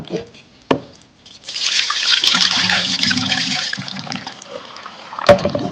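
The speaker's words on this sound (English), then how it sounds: "So I'm going to rinse it for about 3 times because this starch from the rice, I need to remove that." Soaked rice being rinsed in water by hand to wash off starch, a steady swishing, splashing wash that runs for several seconds at close range, with a couple of sharp knocks before and after.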